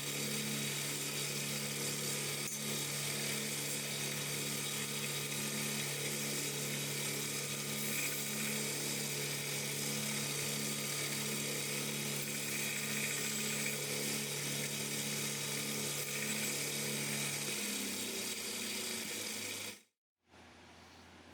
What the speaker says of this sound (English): I'm going to smooth them out now with a 400 grit sanding belt